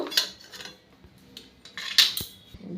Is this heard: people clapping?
no